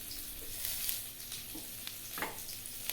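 Leafy greens fry in a pan on low heat and are pressed down, giving a soft, steady sizzle with faint scraping and stirring touches close by.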